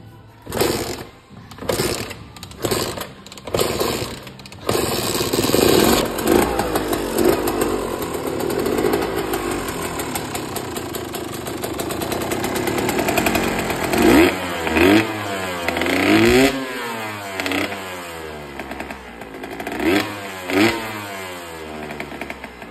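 A KTM two-stroke motorcycle engine kicks and catches, then runs with a raspy, buzzing idle and repeated sharp revs rising and falling, close by, the exhaust leaking, with no talk over it.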